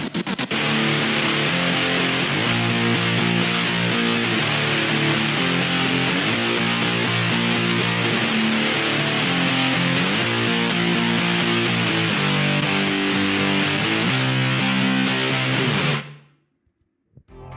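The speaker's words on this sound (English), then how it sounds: "The rhythm guitars sound like this." Rhythm electric guitar in a modern rock song, heavily distorted with scooped lows, chugs out a thick, loud, continuous riff in a repeating chord pattern for about sixteen seconds, then cuts off abruptly into near silence.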